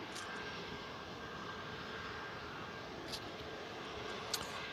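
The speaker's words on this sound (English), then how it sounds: "There's Ryanair just arrived in from Alicante." A Ryanair airliner arriving at an airport after a flight from Alicante, its steady broad engine roar sustained and fairly distant throughout, with no talk over it.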